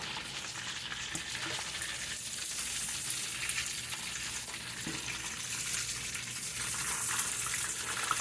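Big fish fillets sizzle steadily in a hot pan while browning, a continuous close crackle and hiss with no talking.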